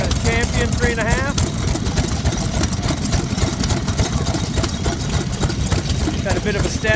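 Champion 3.5 stationary engine running on display at the Clarendon Classic show, a loud, steady chugging idle with rapid regular firing pulses, amid outdoor crowd noise and nearby chatter.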